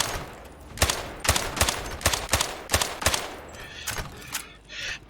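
M4 rifle fire in the Zero Caliber video game: about nine sharp, loud shots in a quick, slightly uneven series, followed by fainter mechanical clicks near the end.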